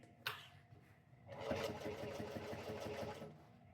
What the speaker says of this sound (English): This machine is a beast. It sews so beautifully